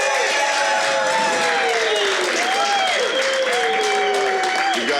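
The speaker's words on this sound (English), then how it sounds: "We've got an excited crowd here tonight." A large crowd claps and cheers steadily at an International 9-Ball Open pool match, a dense, continuous wash of applause with a commentator's voice running over it.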